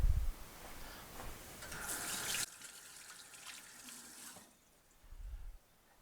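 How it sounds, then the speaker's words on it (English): Kitchen tap running while hands are rinsed, a hissing stream of water for about two seconds, then softer splashing and trickling before it stops, with a few low thumps; no talk. "Let me rinse my hands off here."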